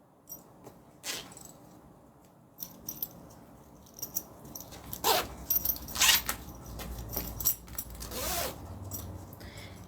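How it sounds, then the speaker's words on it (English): A bag's zipper panel has its zipper pulled during a sewing project, giving several short, scratchy rasps and small clicks spread across the stretch, close up and fairly quiet, with no talking. "So I'm going to add my zipper pull."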